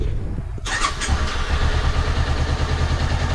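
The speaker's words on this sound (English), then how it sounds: "And then start your bike up." A Honda CBR500R motorcycle engine cranks and catches near the start, then settles into a steady, loud, close idle with an even low rumble after routine oil and filter service.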